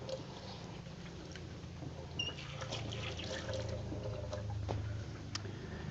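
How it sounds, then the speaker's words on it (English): Tap water running steadily over hands at a home kitchen sink, a continuous soft trickle and splash with faint squishy rubbing, close but quiet, with no talking. "now, wash my hands again"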